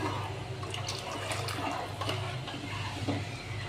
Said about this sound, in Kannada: ಒಂದು 3 ಗ್ಲಾಸ್ನಷ್ಟು ನೀರು ಆ್ಯಡ್ ಮಾಡ್ತಾಯಿದ್ದೀನಿ.